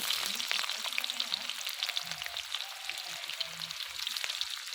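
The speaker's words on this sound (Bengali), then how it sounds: "দিয়ে দেব কোচানো পেঁয়াজ" Chopped onions fry in hot oil in a pan with a dense, crackling sizzle, steady and close, punctuated by soft stirring scrapes throughout.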